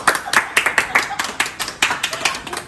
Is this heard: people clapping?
yes